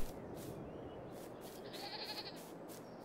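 Goats bleat in the Farming Simulator 22 video game, a faint wavering call rising midway over a soft, steady background of farm noise.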